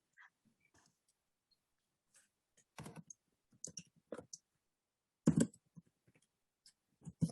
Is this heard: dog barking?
no